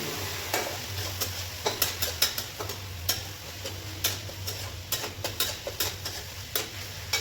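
Food being stirred and mixed in a pan at home for a Sunday special dish, with a steady low sizzle and irregular scraping taps of a spoon against the pan, close and moderately loud, with no talking.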